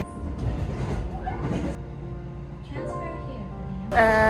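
Rumbling local train interior noise in Japan with rattling carriage sounds, voices talking over it, and a brief high squeal near the end.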